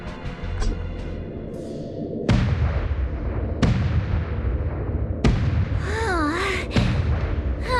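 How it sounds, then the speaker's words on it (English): Cannon-like gun salute booms from the Sky Splitter in the video game Honkai Star Rail, several loud blasts roughly every second and a half with rumbling tails, mixed with game music and whooshing effects. "The Sky Splitter's gun salute is really loud."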